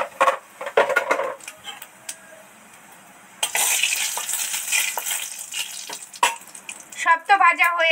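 Five-spice seeds and dried red chillies fry in oil with a crackling sizzle, interrupted by clattering utensil knocks and a voice speaking at the start and end.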